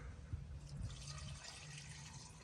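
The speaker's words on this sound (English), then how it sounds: "pour some of this ATF transmission fluid mixture down the carburetor" ATF transmission fluid mixture pouring down the carburetor of a 1941 Ford COE truck's flathead V8, a steady liquid gurgle and trickle running throughout at close range, with no talk.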